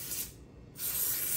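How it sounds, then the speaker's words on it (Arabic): Cooking spray misted around the edges of a cake pan for a Lotus Biscoff cheesecake, two close hissing bursts separated by a brief pause. "بعد ما جهزنا القالب عندي بخاخ الطبخ،"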